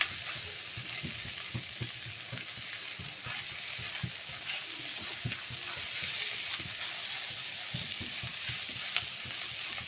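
Sprouted gram sizzles in a hot pan while a spatula stirs it, giving a continuous close crackle with repeated soft scraping strokes over the frying hiss.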